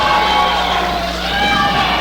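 A wrestling arena crowd cheers and roars for Marius during a Rob Stardom versus Marius match, a loud, steady wall of crowd noise throughout with no distinct voices standing out.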